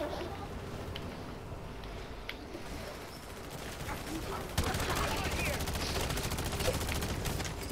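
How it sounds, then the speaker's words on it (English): Gunfire aimed at zombies in Call of Duty, rapid bursts of shots rattling continuously under game noise and growing louder partway through, with people talking in the background. "And just shoot the purple zombies"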